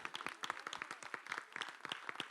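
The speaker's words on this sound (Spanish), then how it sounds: "un aplauso." A small audience claps in a sparse, uneven patter of individual hand claps, fairly quiet and close, with no talking over it.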